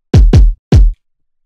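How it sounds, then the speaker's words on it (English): A deep electronic kick drum sample programmed in FL Studio thumps three times, two quick hits then a third after a short gap, each a heavy booming low punch with a short tail, loud and isolated with silence after. "I have another kick here."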